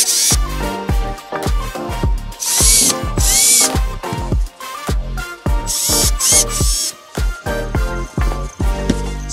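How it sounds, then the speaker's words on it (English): A power drill driving half-inch screws into the hardscape of a bioactive gecko vivarium, several loud close bursts of whirring and ratcheting, each spinning down, separated by short pauses. "using half-inch screws and then drilling them in"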